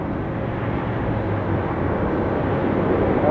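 A JetBlue airliner passes at Tampa airport, a steady, broad, loud jet roar that holds evenly without a break.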